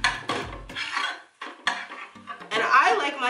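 A utensil scrapes and clinks against a pan while plant-based Just Egg scramble is broken up, with irregular bursts of stirring, brief pauses and a little talking near the end.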